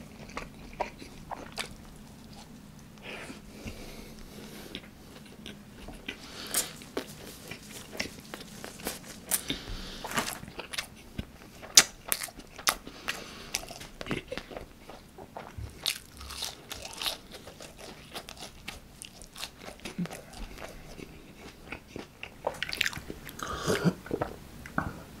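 Close, crunchy chewing and biting of a Burger King bacon bulgogi burger, with irregular bites and wet mastication sounds continuing throughout, without talk.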